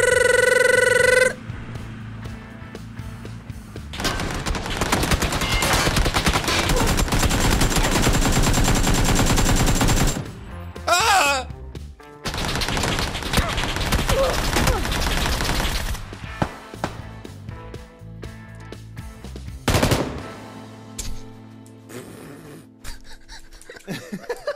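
Sustained rapid bursts of gunfire in PUBG, loud and dense for long stretches with brief pauses, broken by short gaps and a few isolated shots near the end.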